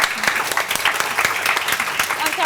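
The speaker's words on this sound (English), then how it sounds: "Round of applause." A dense audience applause at a mental health workshop talk rolls on continuously and loud for the whole stretch, with no pauses in the clapping.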